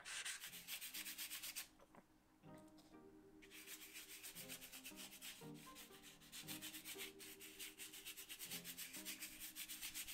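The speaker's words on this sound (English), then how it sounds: "And I'm just sort of scrubbing over the surface." A paintbrush scrubs paint across a canvas in an abstract painting, a steady close-up scratchy rubbing that pauses briefly and then resumes in repeated strokes, with a tonal hum beneath.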